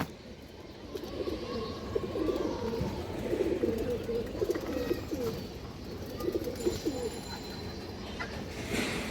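Pigeons in a loft of fancy breeds coo continuously, a dense, layered murmur of overlapping low throaty calls that runs nearly the whole time at moderate, close loudness, with no talk over it.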